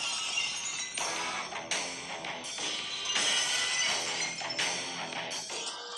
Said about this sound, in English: Let's hear some glass break.